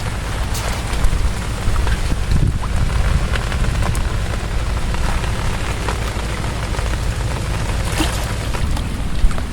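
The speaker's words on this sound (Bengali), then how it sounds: "মেঘ আর বৃষ্টি" Heavy rainy-season rain pours steadily over a village fishing spot where bamboo shrimp traps are set, a dense continuous hiss with low rumbling that suggests distant thunder, with no talking.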